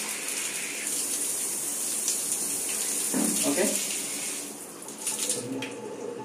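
Water gushes under full pressure from a repaired drilled household pipe, a steady loud splashing flow with a brief spoken word over it and a slight dip near the end.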